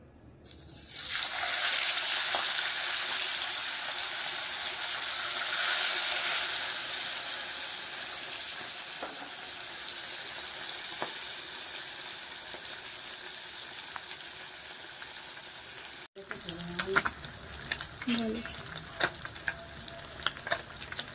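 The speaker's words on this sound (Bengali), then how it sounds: "বড় বড় মাছ, ওই জন্যই সাদা তেলে আমি ভেজে নিচ্ছি।" Sarputi fish frying in hot white oil in a kadai: a loud, dense sizzle rises and holds steady for most of the time, then cuts off and turns into gentler crackling with some scraping or stirring near the end.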